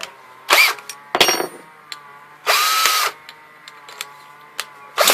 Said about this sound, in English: I used a bit a little smaller than this, and I drilled down.